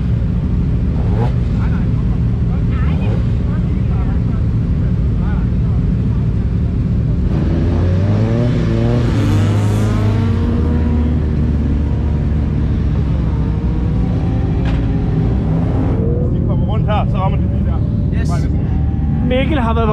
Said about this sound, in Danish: det er bare buller på motorer.